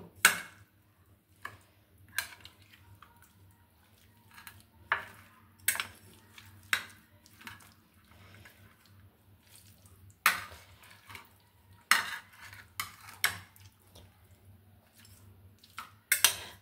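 A spoon stirs and scrapes through cumin powder, salt and oil in a bowl, making soft, irregular clinks and squishy mixing sounds at close range with quiet pauses between strokes.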